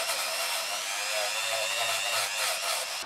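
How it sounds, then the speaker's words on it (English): A Dremel rotary tool with a small stainless wire brush, run at low speed with WD-40, scrubs carbon off a Harley Evo cylinder head, giving a steady, close, high-pitched whirring buzz throughout with no talking. "I'm going to use a Dremel with a little stainless brush on it."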